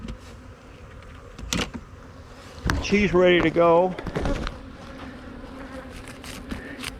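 Insect buzzing around a beehive rises and swells for a couple of seconds amid handling clatter and knocks, fairly close, with someone speaking briefly.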